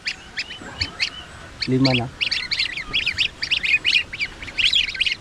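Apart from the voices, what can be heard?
duckling chicks peeping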